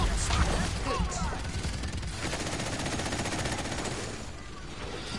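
Rapid, dense gunfire from a video game shooter rattles continuously at close range, loud bursts of automatic shots layered with faint voices underneath.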